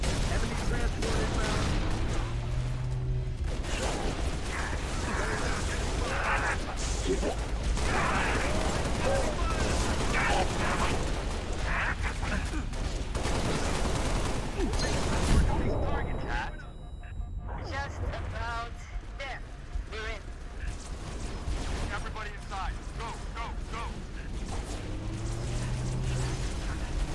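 Gunfire and combat noise in the Halo: Reach video game, dense bursts of shots and mechanical clatter running steadily throughout, loud and close, with a brief lull midway before the firing resumes.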